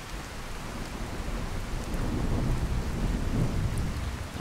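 In Skyrim Special Edition with the True Storms mod, heavy rain pours alongside a low, rolling thunder rumble that swells midway, loud and enveloping with no voices.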